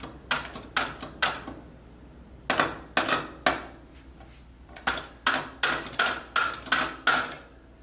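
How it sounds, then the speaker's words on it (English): Keys of a wind-up elephant instrument click and clatter against one another in quick bursts of sharp metallic taps, grouped in clusters of three to six with short pauses, close and clear with no voices. "mess around with the sound that the keys make just from the movement that they have between one another"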